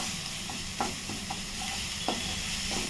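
Spice paste for batata vada being sautéed in a pan with a pinch of turmeric, a low steady sizzle broken by a few soft scraping stirs of the spoon, close and quiet.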